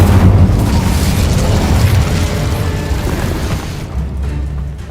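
A fiery Incendio spell blasts in a video game, a loud, sustained booming whoosh with heavy low rumble that holds steady for several seconds before thinning out near the end.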